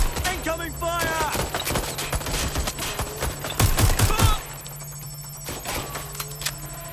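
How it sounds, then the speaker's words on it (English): Incoming gunfire in the video game Watch Dogs: Legion, a dense run of sharp rapid shots and bursts hammering throughout, loudest in a heavy volley near the middle, with a voice speaking briefly among the shots. "Incoming fire!"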